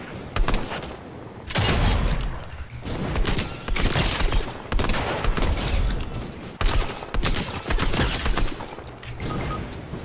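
Loud bursts of MK7 rifle fire in Fortnite, several rapid volleys repeating every second or two over game noise, with no talking.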